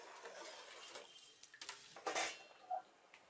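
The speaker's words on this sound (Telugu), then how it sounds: "కొబ్బరి పాలు వేసిన తర్వాత గరిటెతో ఒకసారి మొత్తాన్ని కలుపుకొని" A metal ladle scrapes and clinks against a pot as rice and coconut milk are stirred, quiet and close with a few sharper knocks near the end.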